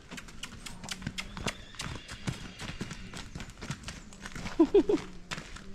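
A young Clydesdale filly walks on firm ground, hooves clopping in an even, close-up rhythm with a few soft snorts near the end.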